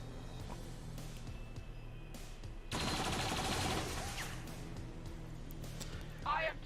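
Rapid burst of enemy gunfire from the strategy game XCOM 2 rattles out for about a second amid quieter game sounds, with a voice talking in the background.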